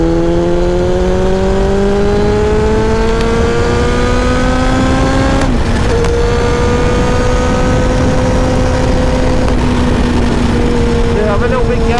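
A Kawasaki ZX7R motorcycle blasts at full throttle, its exhaust howling loud and close as the engine pitch climbs steadily through the gears with brief dips at each shift, continuous for the whole stretch.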